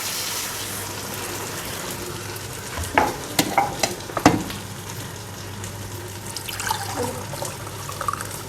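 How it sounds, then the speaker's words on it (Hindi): Yakhni stock poured into a pot of frying mutton pulao, with soft sizzling under a few sharp splashes and clanks, followed by more sputtering and stirring toward the end. "यह मैं यखनी डालने लगी हूँ, जिस पानी में गलाया था।"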